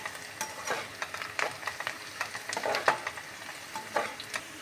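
Moringa leaf and flower sabzi is stirred continuously in a pan, giving soft scraping strokes and clatter over a low, steady sizzle, close up with no talking.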